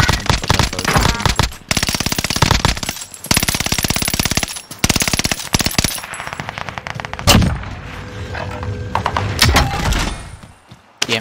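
MG42 machine gun fire in the Call of Duty Warzone video game, with long, loud, rapid bursts broken by short pauses and a busier stretch of mixed shots and mechanical clatter toward the end, no talking.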